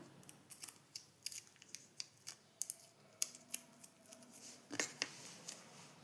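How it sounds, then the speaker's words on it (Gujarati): Scissors snip double-sided tape for an electric bell project: a close series of sharp, crisp cuts in an irregular rhythm, with no talking. "એક કાતર, બરાબર. તો અહીંયા તમારે આવી રીતના ડબલ ટેપ કાપી લઈશું."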